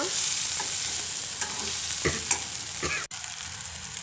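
Small idlis for pepper idli are tossed and fried in a pan, giving a steady close sizzle with scraping stir strokes, a brief break near the end, then the frying carries on.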